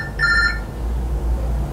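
In a drama scene, a telephone gives one short electronic ring tone, clear but brief, over a low steady background hum.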